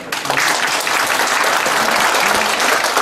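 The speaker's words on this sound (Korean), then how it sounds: "여러분들의 힘찬 박수와 함께 시작하도록 하겠습니다" An audience at an environment and safety awards ceremony applauds steadily and loudly, dense clapping filling the room without pause.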